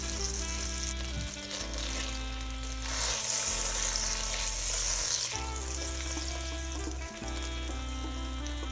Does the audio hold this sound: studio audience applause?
no